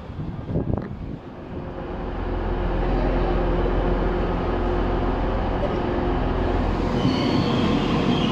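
Train ride from Manchester Victoria toward Rochdale, with a low steady rumble of the carriage building up as it gets moving, brief clanks early on and a faint squeal near the end.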